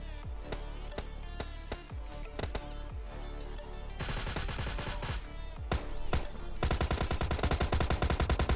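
Rapid automatic gunfire in a solo-versus-squad battle royale game, loud and continuous bursts of shots hammering close by, with a denser, faster stream of fire toward the end.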